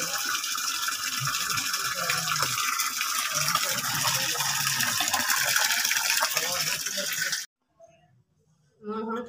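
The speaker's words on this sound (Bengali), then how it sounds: "এই যে মাছগুলো আমি ধুচ্ছি এখন।" Small fish washed by hand under running water, a steady close gush that stops abruptly near the end, followed by a brief silence and then a short splash.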